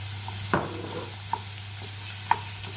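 Tomato sauce ingredients simmer gently in a pan, giving a soft, steady sizzle close by. Three light spoon knocks against the pan stand out at irregular intervals, and nobody speaks.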